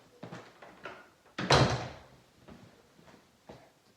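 A door closes indoors in a room where bassoon lessons are held, giving one loud, solid thud midway with a few softer knocks and bumps around it and no talking.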